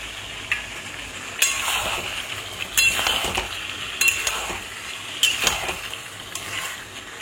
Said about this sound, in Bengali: আমি কড়াইয়ে সব মশলা দিয়ে চিকেনটাকে কষিয়েছি